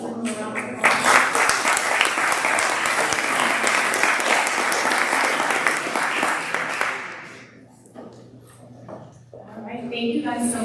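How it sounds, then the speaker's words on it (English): Audience applause for panelists at a discussion on emergency preparedness rises into a loud, dense clapping burst lasting several seconds, then fades away, with voices audible under and after it. "Thank you to our panelists. Give them a round of applause."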